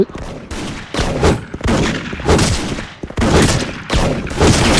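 Loud, dense bursts of gunfire in the video game Special Force, rapid repeated shots in several volleys separated by brief gaps, close and without talk.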